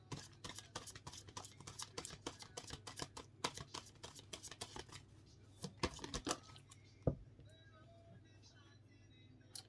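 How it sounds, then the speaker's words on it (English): Tarot cards being shuffled by hand, a rapid run of crisp riffling flicks close up that slows into a few scattered taps and slides. "But I'm gonna get a more comfortable shuffle."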